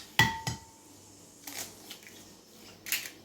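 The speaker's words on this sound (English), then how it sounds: "You break 2 eggs." Two eggs cracked into a bowl while making French toast, a sharp crack followed by a second tap near the start, then a few faint clinks and splashes of shell and bowl in a quiet kitchen.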